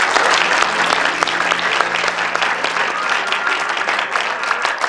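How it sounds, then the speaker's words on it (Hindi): An audience gives sustained, dense applause in honor of the DG at a celebration held by blind people, with steady clapping continuing throughout. "डीजी साहब के लिए एक दफ़ा फिर तालियां।"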